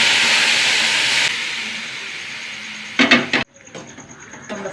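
Potatoes tipped into a hot pan of oil with dried red chillies, curry leaves and urad dal for potato curry, a loud broad sizzle that fades gradually, followed by a few sharp clatters and then quiet.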